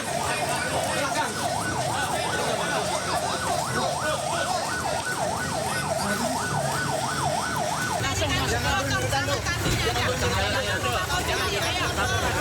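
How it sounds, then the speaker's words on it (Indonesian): An ambulance siren wails steadily in a rapid rising-and-falling pattern, joined by more sirens and dense crowd noise as the scene grows louder at a deadly train crash near Bekasi Timur station. "Ambulan banyak belakang."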